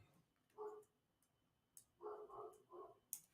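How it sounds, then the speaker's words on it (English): A dog barks outside in the distance, faint and muffled: one short bark, then a pause, then a cluster of three barks in quick succession, with only light room noise around them. "I gotta let my dog in. He going crazy out there."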